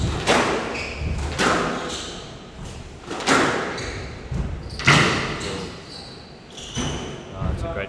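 Squash rally in a Premier League match: a run of sharp, echoing thuds as the ball strikes the walls and racquets at irregular intervals, close and loud in the court, with commentators talking over it.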